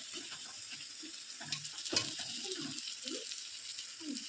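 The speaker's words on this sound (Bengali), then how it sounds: "সব কটাই আমি ভেজে নেব।" Sandwiches frying in a pan give a soft, steady sizzle with occasional stirring scrapes and a faint metallic clink near the middle, all at low volume with no talking.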